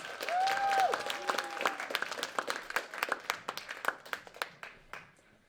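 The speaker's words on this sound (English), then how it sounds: "Please give one more round of applause to all of our students." An audience at a student screening event claps for the students, starting as a full burst of applause that thins into scattered individual claps before fading out.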